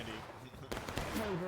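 Gunfire crackles in a Civil War battle video game, a couple of sharp rifle volleys with Union and Confederate cavalry fighting, over a continuous noisy background with some talking.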